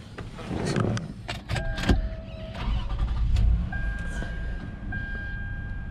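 A 2005 Lexus RX 330 being started, with a starter crank, a few sharp clicks and the engine catching into a low, steady idle, heard close and alone.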